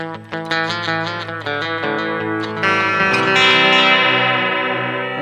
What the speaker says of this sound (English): sounds very trebly, the bridge pickup